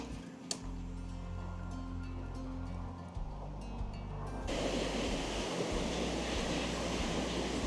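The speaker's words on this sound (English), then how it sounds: "this river is flowing well, but not as bad as it would have been last night" A village river running high after a flood rushes steadily with broad, hissing noise and wind buffeting the microphone, growing louder and fuller partway through as the roar of the water takes over.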